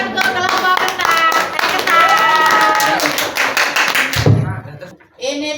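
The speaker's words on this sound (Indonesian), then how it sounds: "Tepuk tangan untuk kelompok ketan." A classroom of grade 8 students claps for a student group after its presentation, several seconds of dense, lively applause that fades out, with a voice speaking briefly at the end.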